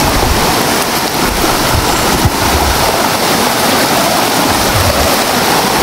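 A countryside stream flows close by on the way up toward farmland, a loud, steady rushing wash of water that fills the whole stretch without pause.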